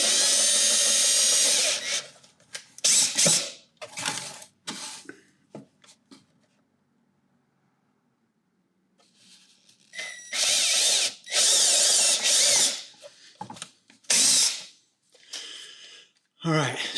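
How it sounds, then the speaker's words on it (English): A power drill bores a small pilot hole in an injector box, whining in loud bursts separated by pauses and quiet stretches, with someone talking between the bursts. "I'm going to drill a small hole in there first"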